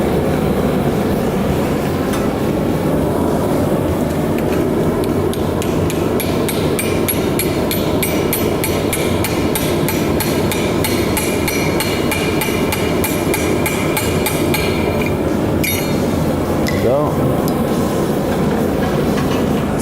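Iron being hammered on an anvil while forging a leaf hook, a steady run of loud, close metallic strikes that continues without a break through the whole stretch, with no voices.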